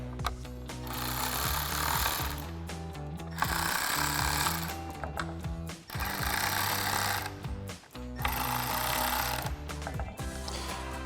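A power tool tightens bolts during a Bestop Supertop Squareback soft top install on a Jeep Wrangler JL, running in loud, sustained whirring bursts of a few seconds each, split by short pauses, with no talking.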